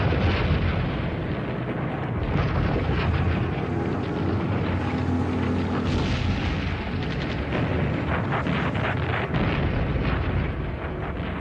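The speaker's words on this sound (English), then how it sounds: "To their north, the guns of Normandy explode." World War II artillery barrage at Normandy: dense, continuous booms and blasts in heavy overlapping rumbles, loud and unbroken throughout.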